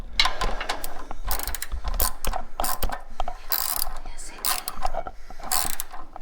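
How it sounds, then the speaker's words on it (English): Hose clamp being tightened on a radiator hose of a Toyota FJ40, a steady run of close metallic ratcheting clicks and grinding mechanism noise throughout, with no talk. "I'm gonna tighten that though right now."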